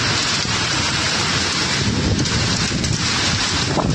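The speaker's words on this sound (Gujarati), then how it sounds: "જોઈ લો ફૂલ વરસાદ આવે" Heavy rain with hail and strong wind pours down in a rural spot where cattle are tied up. It makes a dense, constant roar with gusty buffeting at the microphone, and no one speaks.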